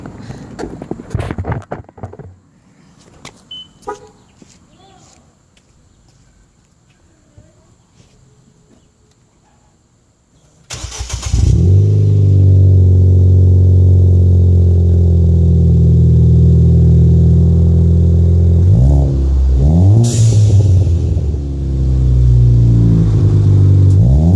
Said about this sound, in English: That's a catback exhaust that I put on.